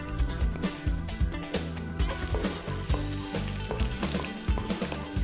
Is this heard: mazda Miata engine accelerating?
no